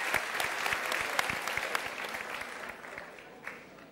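Moderate applause from a Turkish TV talk show studio audience, dense clapping with a few sharp individual claps standing out, fading slightly toward the end.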